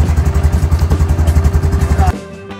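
A motorcycle engine at a beach in Gambia runs loud and close with a fast, lumpy chugging pulse, then cuts out abruptly, leaving a quieter tail.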